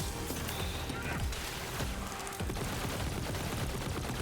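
Rapid automatic fire from a cryo SMG in the video game Borderlands 3, a dense loud rattle of shots mixed with game effects and a mechanical clatter, running continuously without a break.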